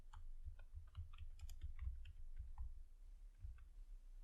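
Light clicking of keys on a computer keyboard, an irregular run of quick taps at close range, soft and steady over a low background hum.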